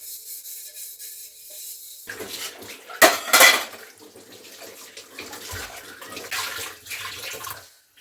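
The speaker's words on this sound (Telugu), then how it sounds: "ఇప్పటిదాకా గిన్నెలు కడిగేసింది" Close-up clatter of dishes and utensils being scrubbed and rinsed by a child under running water, with a sharp clanking burst partway through and quieter rubbing before and after.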